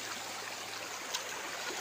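A river stream flows with a faint, even rush of water that stays steady and continuous, with no voices over it.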